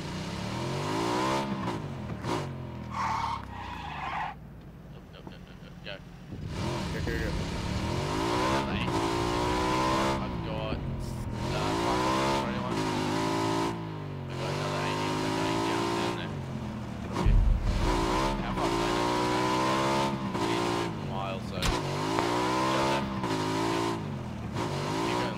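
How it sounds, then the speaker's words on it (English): A three-wheeler bike engine in a video game revs and strains in repeated rising and falling surges across the stretch, loud and close, with players talking throughout. "Oh, you got the bike, the three wheeler?"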